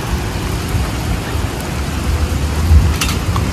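Rain falls outdoors in a steady, dense hiss of drops on surfaces, loud and close, continuing without a break and with no talking.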